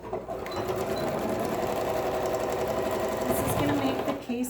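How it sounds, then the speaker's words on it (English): A sewing machine runs steadily for about four seconds, stitching a folded 1/2 to 5/8 inch hem along the short side of a fabric face mask, a close continuous whirring buzz from start to end. "we're going to sew that"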